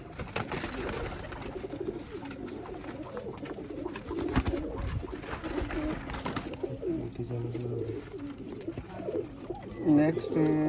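Pigeons coo repeatedly, including a black-faced pigeon among Sialkoti birds kept as pets, in soft rhythmic calls over a busy, noisy background.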